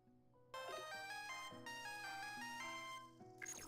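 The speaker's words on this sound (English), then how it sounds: "Oh, we got a phone call." A phone ringtone plays inside a video game, a bright electronic melody of sustained tones that starts abruptly after a quiet moment and continues loudly and clearly without talk.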